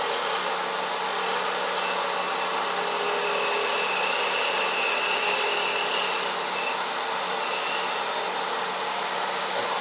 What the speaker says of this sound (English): I'm just cutting deeper and deeper and deeper until I get to the end